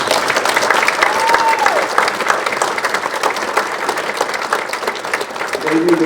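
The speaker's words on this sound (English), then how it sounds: "will you give me a big round of applause?" Audience applause fills a chamber of commerce annual dinner, a steady dense clapping from a large crowd lasting several seconds, with a brief voice surfacing near the start.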